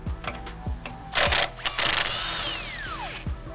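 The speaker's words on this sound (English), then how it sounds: "you want to remove the sway bar end link from the lower control arm" A power tool on a 2013-2018 BMW X5 rear suspension works loose the sway bar end link from the lower control arm, giving several short ratcheting, whirring bursts up close with brief pauses between them.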